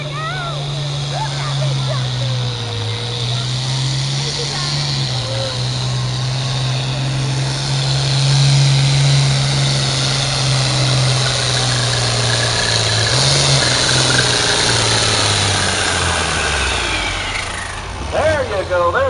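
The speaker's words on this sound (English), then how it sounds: "Mike Trance out of Kent, Ohio in that John Deere 4255." John Deere 4255 tractor engine at a county fair tractor pull, a loud sustained engine drone that rises and falls in pitch over about nineteen seconds, with crowd and announcer sounds faintly underneath.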